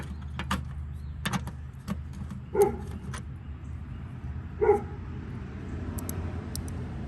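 A dog barks twice in the distance, two short separate yelps over a low steady hum and faint clicks, in an outdoor work area during maintenance on an early 1970s Homelite T8 riding mower.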